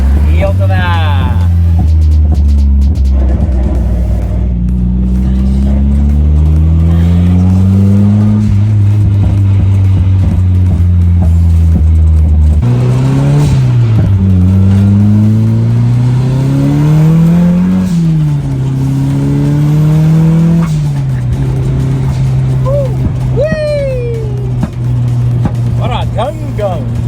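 A Nissan Silvia 240SX drift car engine revs hard and repeatedly, its pitch swooping up and down through long throttle sweeps, with sharp backfire cracks breaking through. It stays loud and close throughout.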